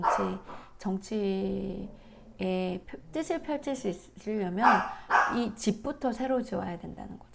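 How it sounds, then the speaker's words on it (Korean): A dog barks repeatedly to go outside, with sharp yips scattered under a man's continuous speech indoors. "지금 밖에 나가고 싶어서 지금 저렇게 짖는데"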